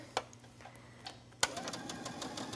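A sewing machine stitches along a pressed, folded fabric edge of a kimono bathing suit coverup, a faint quick mechanical whirr that begins after a few soft clicks and runs steadily and close.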